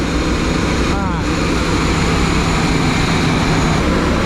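Carbureted V8 in a 1983 Chevy Holiday Rambler motorhome idles roughly and steadily and sags as it starts dying off, a continuous low rumble throughout.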